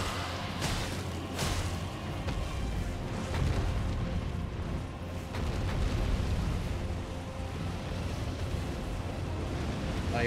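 Roaring rush of fire breath from the flying dragon Agheel in Elden Ring, a dense, loud, sustained blast with low rumble that swells and surges over ten seconds, no voices.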